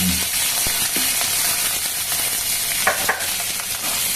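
Onion, green chilli and tomato frying in a pan for a home-style Bengali chochchori, a loud steady sizzle with stirring scrapes and a few clinks, close up and without talk.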